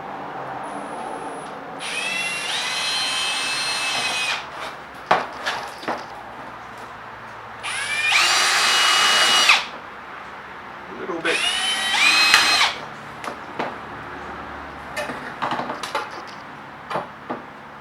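A power drill bores a pilot hole in a homemade pond filter, running in three loud whirring bursts of a couple of seconds each, separated by quieter gaps with clunks and handling noises.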